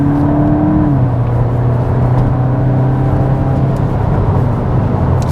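A VW Mk8 Golf GTI Clubsport accelerating hard at full throttle, a steady loud engine drone with a pitch shift near the start, heard from inside the car with no talking.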